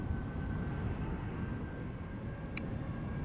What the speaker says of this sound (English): It's an Embraer 190.